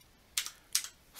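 Short bursts of keyboard typing as a frequency is entered on an Anytone D878/D578 radio: two quick clusters of clicks and a third starting at the end, close and fairly quiet.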